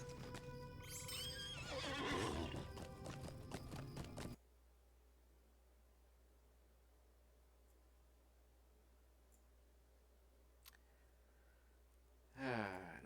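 A horse in the Lord of the Rings Online video game neighs and gallops with clip-clop hoofbeats, loud and busy for about four seconds, then near silence follows before a brief whinny returns at the end.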